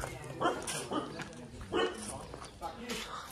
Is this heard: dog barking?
yes